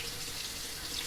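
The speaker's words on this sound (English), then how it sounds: "I'm going to take it out of that soapy water and I'm going to rinse it just like this." Organic lettuce is rinsed under a running kitchen tap, a soft, steady hiss of flowing water with no talk.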